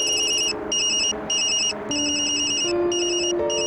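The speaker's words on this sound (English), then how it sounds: "I'm sorry, Yumi, that's my phone." A phone rings in the Tokyo Dark video game, a bright electronic ringtone sounding in repeated bursts with short gaps, clear and steady over a soft underlying game tone.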